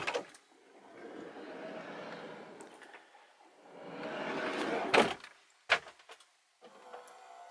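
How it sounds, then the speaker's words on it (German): Soft-close sliding door on a 2020 Pössl 2WinPlus camper van, two slow rolling slides followed by a gentle latch, then a couple of quiet clicks and knocks, faint and without talk. "Die Tür geht schön ruhig zu, zieht sich von alleine zu."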